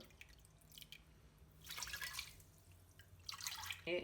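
Water being poured into a pot of sugar to make syrup for gulab jamun, with splashing and trickling bursts around the middle and near the end, fairly close, no talking.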